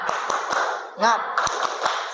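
A school class claps in a steady rhythm, sharp evenly spaced claps repeating under continuous chatter and voices, with a brief shout in the middle.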